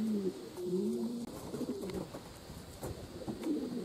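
Racing pigeons resting on a loft roof coo softly in repeated low, rolling phrases at close range over a steady outdoor hum.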